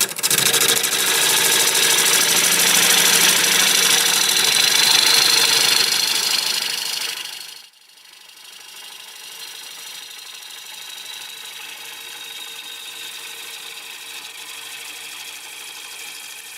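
A wood lathe spins at 800 RPM while a freshly sharpened 5/8 bowl gouge cuts a black walnut bowl, giving a loud, steady broadband hiss for about seven seconds that drops off sharply to a quieter machine hum.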